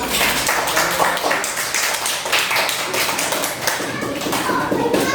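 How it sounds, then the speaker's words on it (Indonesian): Schoolchildren in a classroom clap hands together during a lesson, a close, busy patter of claps and taps that continues throughout with some light voices mixed in. "Yang beri tepuk tangan untuk Rika."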